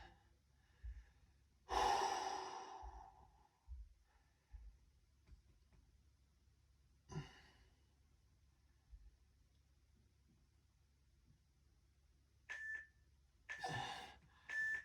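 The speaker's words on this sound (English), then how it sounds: "Breathe." Heavy, audible breaths during a home workout, a few strong exhales spaced far apart over a quiet room, with faint low thumps of movement between them.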